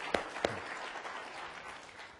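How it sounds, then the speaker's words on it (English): Audience applause in a hotel conference room, a couple of sharp near claps at the start then a steady wash of crowd clapping. "Give them a big round of applause."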